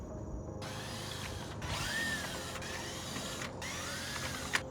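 A Torx T25 screwdriver loosens the airbox cover screws on a Mercedes M276 twin-turbo engine, giving faint repeated scraping and ratcheting bursts separated by short pauses.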